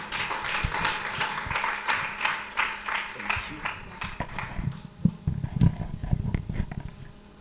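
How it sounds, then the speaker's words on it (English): Audience at a biochemistry event applauds as a panel coordinator is welcomed, a dense patter of clapping that thins into scattered, uneven claps toward the end. "Please help me clap for her."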